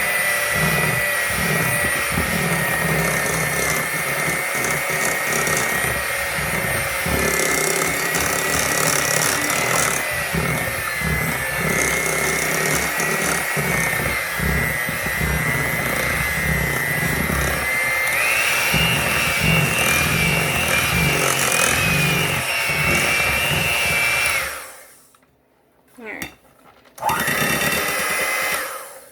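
A loud, steady electric hand mixer beats gluten-free banana muffin batter continuously for a long stretch, its motor buzzing and rattling, then cuts off abruptly near the end.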